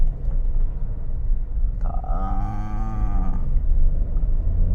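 A 2011 Honda Freed 1.5 SE, a used seven-seat family car with a 118 hp engine, accelerating: a steady low cabin rumble with a tonal engine note that swells and falls mid-clip, without talk.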